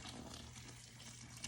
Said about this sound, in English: You just fill the container up.